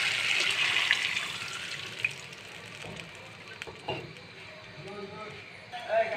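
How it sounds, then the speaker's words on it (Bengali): Water poured into a pot of desi chicken and potato bhuna curry, a steady faint splashing hiss at first, then quieter sizzling with occasional clinks. "এখন আমি এখানে কিছু পানি দিয়ে দেবো।"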